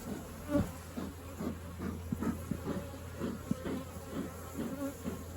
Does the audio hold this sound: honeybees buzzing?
yes